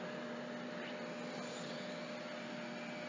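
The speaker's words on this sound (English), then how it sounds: "You're just going to turn your hoover on and I'm just going to scan around for it." A household hoover runs steadily up close, a loud constant whine and roar that holds without change throughout, with no voices over it.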